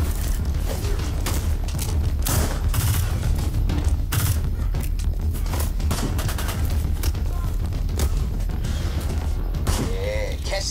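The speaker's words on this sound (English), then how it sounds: "Damn, came in with a bazooka." Bazooka blasts and rapid gunfire from the game Ghost Recon Breakpoint, a dense, continuous barrage of shots and booms at close range, with a voice talking now and then over the combat.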